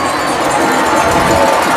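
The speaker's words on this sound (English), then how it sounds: "this crowd on the Kilgore side is on their feet" A high school playoff football crowd on the Kilgore side, rising to its feet against Chapel Hill, sends up a loud, steady, broad roar with no break.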